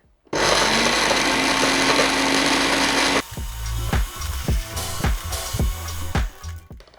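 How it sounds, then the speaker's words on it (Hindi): A blender whirs loudly and steadily for about three seconds grinding soaked lentils into a thick paste without water, then stops, followed by several sharp knocks and clatters as the jar is handled. "मैं इसको ब्लेंडर में ब्लेंड करने लगी"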